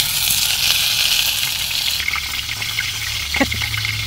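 Fish frying in hot oil in a rural Bengali kitchen, a steady broadband sizzle and crackle that holds throughout, with a few brief sharper pops near the end.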